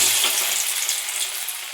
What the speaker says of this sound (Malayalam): നമുക്ക് ഫ്രൈ ചെയ്തെടുക്കാം